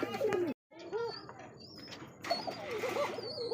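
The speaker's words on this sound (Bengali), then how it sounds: "বড় সাইজের একজোড়া ককা কবুতর" A large pair of kaka pigeons gives soft, low cooing calls, close and fairly quiet, in a few short bursts with a brief silent gap near the start.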